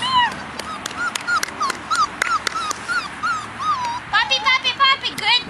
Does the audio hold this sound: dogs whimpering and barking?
yes